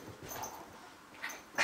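A puppy's soft whimpering and small yips, fairly close, with a brief louder burst at the end.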